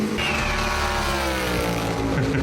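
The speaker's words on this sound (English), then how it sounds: "Just listen NASCAR to boom tubes compared to the other cars." A NASCAR stock car's V8 engine with boom tubes roars loud and close at Le Mans, a continuous harsh rumble whose pitch slides as it revs past.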